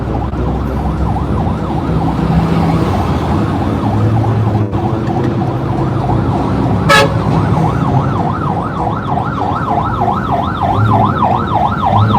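A loud wailing siren rises and falls in steady sweeps, close by, over the rumble of a heavy engine, with a brief horn blast midway.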